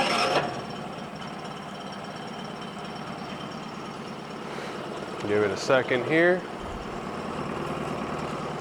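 Honda 9.9hp tiller outboard from 2000 with electric start, freshly serviced, idling steadily at low volume through the clip, while someone speaks briefly over the running motor.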